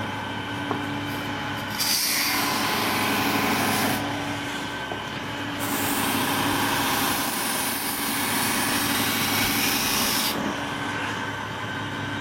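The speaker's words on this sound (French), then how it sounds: "Donc là, c'est l'affûtage." A table knife blade is sharpened on a grinder in two long passes: a steady, hissing, rasping grind that starts, pauses briefly, then runs again before stopping, over a low background hum.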